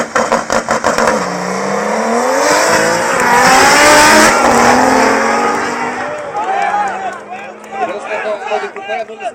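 A BMW 325 and an Audi Coupé launch in a drag race at a 2011 drag event, engines roaring loudly and revving up through gears while a commentator talks over them and the noise fades off toward the end.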